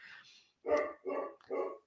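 Three loud, close barks from a pet dog indoors, evenly spaced, preceded by a faint whine.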